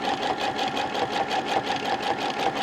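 Sewing machine doing free motion straight stitching on a log cabin quilt block, a steady fast mechanical whirr with rapid regular needle pulses, close and continuous with no talking.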